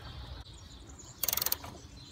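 A nut on a Fiat Panda car battery terminal is tightened, giving a quick, close run of about eight sharp ratcheting clicks that lasts under half a second, then quiet.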